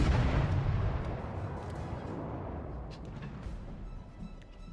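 Heavy warship gunfire from World of Warships: Legends gives a deep rumbling boom that slowly decays, loud at first and fading over several seconds, with no voices.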